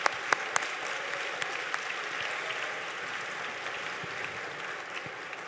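Conference audience applauding a panel of women, sustained even clapping from a room full of people with a few sharp claps near the start and no talk.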